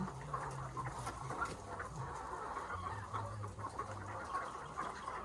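Chickens cluck in a low, steady series of calls, fairly close, over a quiet background.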